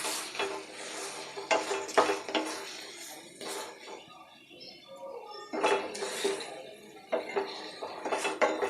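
Punjabi-style chicken gravy stirred in a pan, with repeated metallic scrapes and clinks of a spoon against the pan in uneven bursts, fairly close, with a quieter stretch in the middle.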